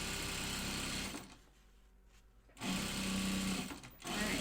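Sewing machine stitching layers of fabric for a pattern project, a loud mechanical whir that pauses briefly in the middle, then resumes with a steady hum.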